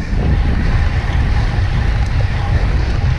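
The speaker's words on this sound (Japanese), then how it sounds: "非常に向かい風が厳しいんですけども今のこの状態" Strong headwind roaring over the microphone while riding a CAAD12 road bike on 25C tubular tyres across a bridge, a loud steady low rumble with constant buffeting throughout.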